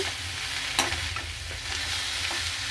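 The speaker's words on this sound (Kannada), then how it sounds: "ಒಂದು ಪ್ಯಾನ್ಗೆ ಎಣ್ಣೆ ಹಾಕ್ಕೊಂಡು ಸಣ್ಣದಾಗಿ ಹಚ್ಚಿಟ್ಕೊಂಡಿರೋ ಬೆಂಡೆಕಾಯಿನ ಜೊತೆಗೆ ಸೇರಿಸ್ಕೊಂಡು ಲೋ ಫ್ಲೇಮಲ್ಲಿ ಹುರಿಬೇಕು" Okra sizzling and frying gently in oil in a pan on a low flame, a steady close crackle with a light stir partway through and no voices.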